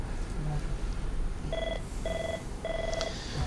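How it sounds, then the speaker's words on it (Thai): Telephone ringing with an incoming call to a TV call-in show, three short electronic ring bursts in a regular pattern over a low studio background, with faint voice traces. "มีสายเข้านะ มีสายเข้าเชิญนะครับ"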